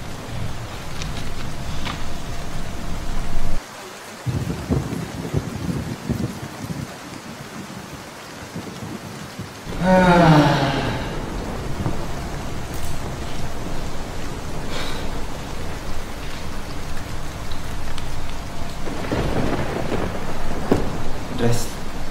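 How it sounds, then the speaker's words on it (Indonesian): Heavy rain pours steadily outdoors with a continuous loud hiss, broken by a brief rumble of thunder partway through, while people talk intermittently beneath it. "Kita tungguin aja hujannya."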